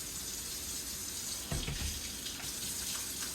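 Tap water running steadily into a sink while hands are rinsed under it, a close, even rush with a brief splashy change partway through.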